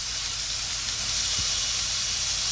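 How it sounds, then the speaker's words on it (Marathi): Chicken tikka frying in a pan gives off a loud, steady hiss and sizzle of hot oil, close and unbroken, with one brief low thump partway through. "आता एका बाजूनी आपला टिक्का फ्राय होत आलेला आहे"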